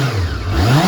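A 1989 Honda CB1 motorcycle engine revs up and down, loud and close, with a smooth, high-pitched, rising and falling tone.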